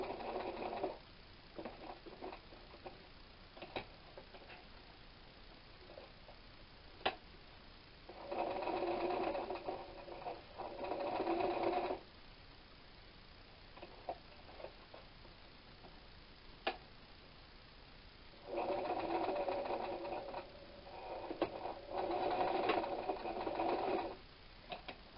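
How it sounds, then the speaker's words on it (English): A sewing machine running a straight stitch on a quilt block, with bursts of steady mechanical whirring separated by pauses and occasional light clicks, heard close and without talk. "I'm just going to do a straight stitch on the things at the top"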